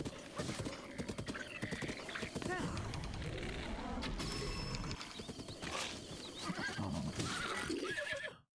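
A horse in the game Breath of the Wild whinnies loudly amid clip-clopping hooves and game effects, close and busy throughout, fading out at the end.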